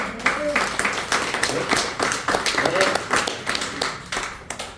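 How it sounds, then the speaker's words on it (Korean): A church congregation at a Sunday service claps at a moderate distance, the individual claps fairly distinct and irregular, with talking heard alongside. "박수 한번 주세요."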